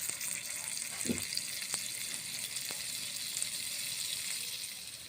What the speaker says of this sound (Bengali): বাটার দিলাম, ভেজে নিচ্ছি।